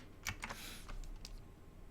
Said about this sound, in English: Hear those keyboards clacking.